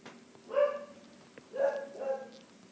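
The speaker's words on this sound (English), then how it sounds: "That's my dog barking." A dog barks a few times indoors, somewhat distant and fairly faint, in two or three separate woofs against a quiet room hum.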